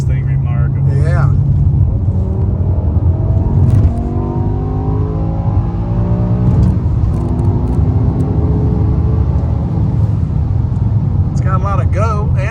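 A BMW M6 with the F1-inspired V10 and a Dinan sport exhaust revs and accelerates from inside the car, loud and close, the pitch climbing repeatedly through gear pulls, with people talking over the engine throughout.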